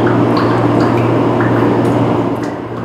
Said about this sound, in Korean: 쉴 새 없이 물방울이 떨어집니다.